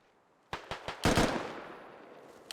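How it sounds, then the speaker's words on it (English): Gunfire in the military shooter game Squad: three or four sharp, separate shots from a distance, then a louder rapid burst whose echo rolls off and fades, with quiet gaps between. "Lima takes some shots at Peach there"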